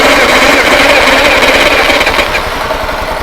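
A 1968 Fiat 500 engine being revived fires up and runs with a loud, rapid chattering putter close by, steady throughout and easing slightly toward the end.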